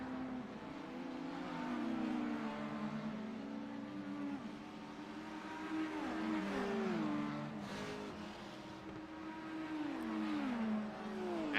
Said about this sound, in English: Absolutely loving the speed here of these LMDh cars.